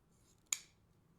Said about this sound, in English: fold your tails in half, cut from the middle out towards the wired edge.